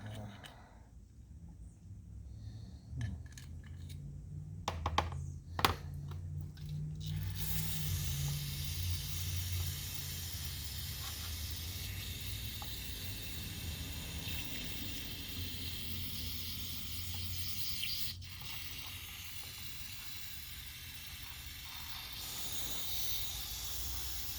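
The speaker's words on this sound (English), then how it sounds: "Trying not to spray too fast and get it all back in our face" Spray cleaning of a Thor speedway power drill caked in old grease, a steady broad hiss of spraying running continuously for most of the stretch, preceded by brief clatter and handling noises.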